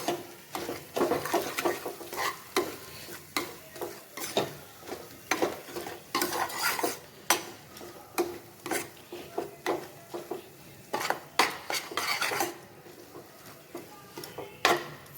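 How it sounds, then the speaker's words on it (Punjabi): Semolina samosa filling tossed with turmeric, garam masala and coriander powder in a pan, heard as a steady run of scraping spoon strokes and clinks against metal over a low sizzle. "ਸਾਰੀਆਂ ਚੀਜ਼ਾਂ ਚੰਗੀ ਤਰ੍ਹਾਂ ਮਿਕਸ ਕਰਾਂਗੇ"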